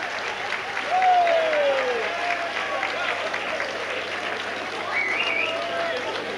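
An audience breaks into sustained applause as a performer is called onstage at a live show, a steady dense wash of clapping across the whole stretch with scattered whistles and cheers.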